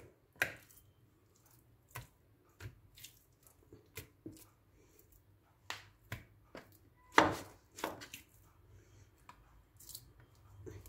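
A knife slices grilled chicken into small pieces on a board, making a series of irregular, close, soft chops and squishy cuts separated by short pauses.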